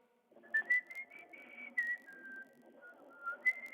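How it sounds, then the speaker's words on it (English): A person whistles a short wavering tune close by, with breathy gaps between phrases and no talking. "can you whistle?"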